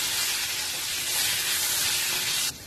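Chopped tomatoes hitting a hot pan for dosa masala give a loud, steady sizzling hiss close by, which drops off abruptly near the end.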